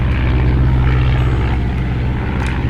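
A WWI biplane's propeller engine drones loud and steady in the Red Baron 3D flight game, a constant buzzing roar that fills the whole span with no pauses and no voices.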